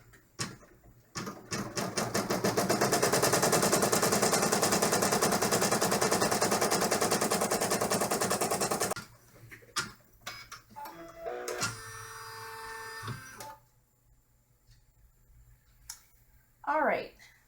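Embroidery machine stitching the placement line for an in-the-hoop corset bag: a loud, fast, steady needle rattle running about eight seconds, then stopping, followed by quieter handling clicks and rustles.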